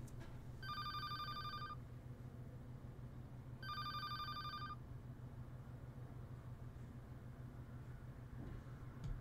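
A telephone rings in a video game, two distinct electronic ring bursts a few seconds apart over a low steady hum, faint and without speech.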